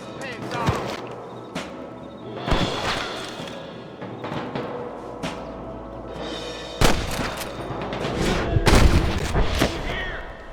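Gunfire in the Western video game Red Dead Redemption: repeated sharp shots and heavy booms crack out through a busy, noisy mix, with the loudest bursts bunched near the end, while game voices talk over it.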